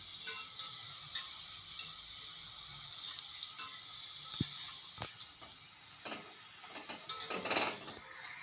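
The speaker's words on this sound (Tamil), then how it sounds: "இப்போ எண்ணெயில் போட்டு வறுத்து எடுத்துருக்கேன் சிம்மில் வச்சு வறுக்கணும்" Homemade evening snacks fry in hot oil over a low flame, giving a steady soft sizzle and hiss with occasional light clicks and stirring scrapes, no talking.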